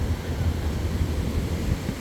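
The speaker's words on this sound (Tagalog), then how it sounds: "ang alon" Ocean waves wash along a beach on a morning walk, a steady low rumbling surge with a constant wind-blown hiss and no voices.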